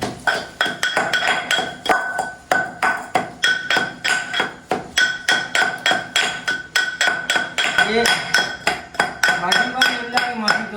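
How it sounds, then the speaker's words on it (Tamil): Dried chillies and salt being pounded for sambal, a steady run of sharp, close, rhythmic thuds with a ringing clink on each strike, repeating without pause throughout and no talking. "கொஞ்சம் அளவாக தேவையான உப்பையும் போட்டு இடிப்போம். எல்லா தூளாகிற வரைக்கும் இடிப்போம்."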